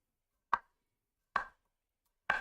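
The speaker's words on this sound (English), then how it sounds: "roughly slice the onion." A knife cuts an onion on a chopping board in three sharp, separate chops spaced about a second apart, close and clear against an otherwise quiet kitchen.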